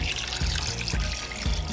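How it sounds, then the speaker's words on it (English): Beef stock made from bouillon pours over venison ribs as a steady, loud, close splash and trickle of liquid with a few soft thumps under it. "we're going to pour it over our meat"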